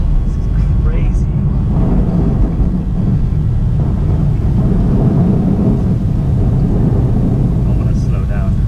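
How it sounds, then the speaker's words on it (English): Heavy storm rain pounds steadily on a moving BMW M2 on a flooded motorway, with a loud, continuous roar of water and road noise and a faint rumble underneath. "The rain got heavier and the standing water got worse."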